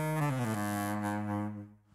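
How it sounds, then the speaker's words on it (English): Baritone saxophone holds a single low, raspy note that swells and then fades out, heard alone and fairly close. "It was the baritone saxophone."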